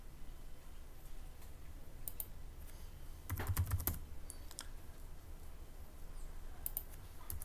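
Computer keyboard typing, soft irregular key clicks with a short quick burst in the middle, faint and close against low room noise.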